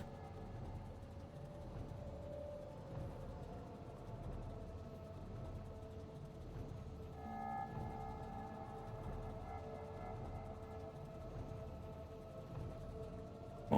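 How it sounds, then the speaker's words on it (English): A train in the Factorio video game hums along steadily, with a continuous mechanical drone and faint siren-like tones throughout, moderately loud and alone without talk. "I'll just grab my train."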